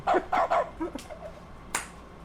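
A dog character in The Stanley Parable video game lets out a short run of barks, three quick loud yips close together, then a few softer ones and a final sharp bark after a pause.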